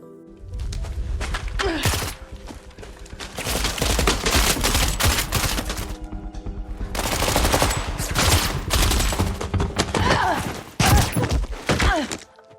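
Bursts of rapid gunfire crack out repeatedly in a tense film scene where Emma shoots Carver, loud and close, with clattering impacts between volleys and brief pauses separating the rounds.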